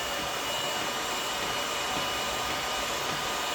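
A heat gun with a step-down nozzle blows hot air onto a piece of heat-shrink plastic, a continuous close, even rushing hiss with no pauses or voices.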